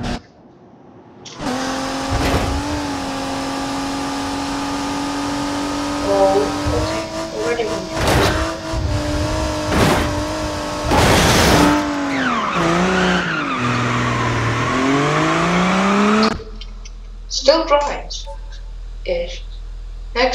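Ibishu Diadem taxi car driven in the BeamNG Drive video game, a steady engine drone rising and falling with revs, with bursts of tire squeal and skidding and a brief voice near the end.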